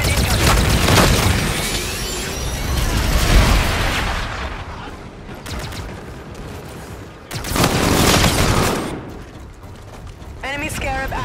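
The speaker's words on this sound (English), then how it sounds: "Enemy bombardment incoming." Heavy bombardment explosions from the Call of Duty: Infinite Warfare team deathmatch on the Breakout map: loud rumbling booms and crackling blasts come in two big surges, with game voice callouts and smaller gunfire between them.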